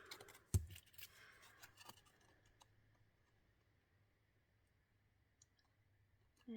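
Scissors snip off a small overhang of card stock, with a sharp close click followed by a few fainter snips, then near silence in a quiet room.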